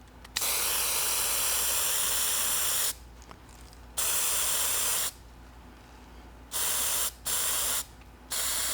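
Hissing bursts of an aerosol spray paint can sprayed onto flower blossoms, several long sprays with short pauses between them, close and steady.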